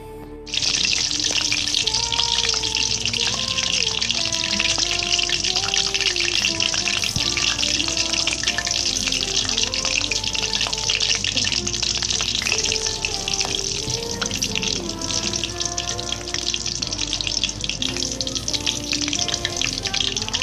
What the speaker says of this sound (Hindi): अब हम इसको फ्राई करना है ऑयल में।